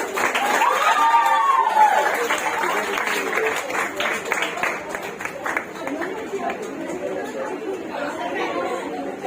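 Audience clapping at a community award felicitation event, a loose spread of hand claps mixed with crowd chatter that thins out toward the end.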